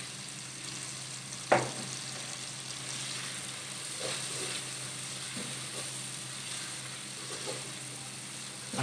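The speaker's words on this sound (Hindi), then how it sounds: "अच्छी तरह से भून लेंगे।" Boiled chicken sizzles while frying in ghee with spices, a steady soft crackling hiss with occasional stirring clinks and scrapes from a utensil in the pan, close up, with no speech.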